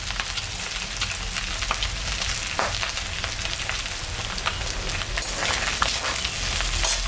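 Black cumin seeds crackle in hot fish oil along with fried onion and green chilli, a steady dense sizzle with scattered sharp pops running unbroken, close and fairly loud.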